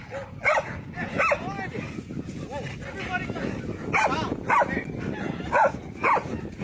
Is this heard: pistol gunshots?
no